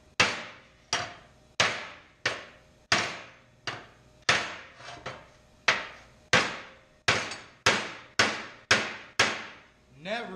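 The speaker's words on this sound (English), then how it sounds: "Never too tired to safely swing a hammer." A hammer strikes steel 1964 Impala A-arms in a workshop, about seventeen sharp, ringing blows at a steady, slightly uneven pace, each decaying quickly before the next.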